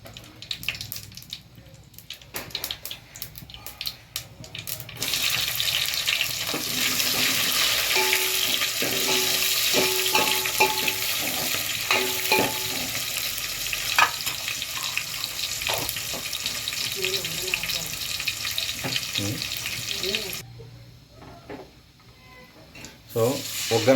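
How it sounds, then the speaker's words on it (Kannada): Mustard seeds, curry leaves and onion are tempered in hot oil for a fish masala sambar, producing a loud, crackling sizzle that swells after a few seconds, holds steady for most of the stretch, then dies back near the end. "ಸೊ ಒಗ್ಗರಣೆ ಕೊಡ್ತಾಯಿದ್ದೀನಿ ನೋಡಿ,"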